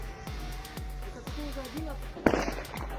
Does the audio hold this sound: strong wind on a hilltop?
no